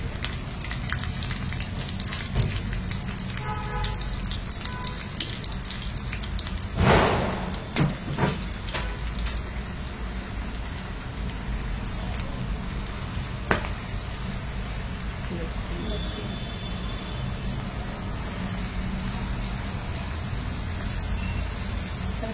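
Mandeli fish fry in hot oil with whole, uncrushed garlic cloves: a continuous, even sizzle and crackle runs throughout, with a few sharper clatters and knocks partway through.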